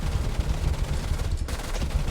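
Aircraft cannons fire in rapid, rattling bursts during a flight simulator dogfight, loud, dense and continuous, with a brief gap before the hammering resumes.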